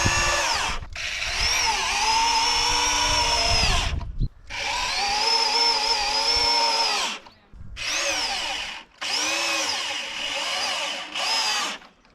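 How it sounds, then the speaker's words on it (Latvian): An old 1972 power drill drives screws in four long, loud, steady whining bursts with short pauses between them, heard up close with no talking. "bez šī 72. gada urbja man nekas nesanāk"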